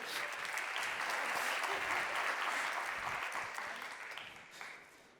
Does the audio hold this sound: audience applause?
yes